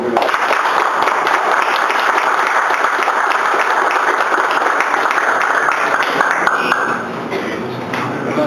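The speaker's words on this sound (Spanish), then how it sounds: "muchas felicitaciones y un aplauso" A church congregation claps in steady applause, loud and continuous for several seconds before easing slightly near the end.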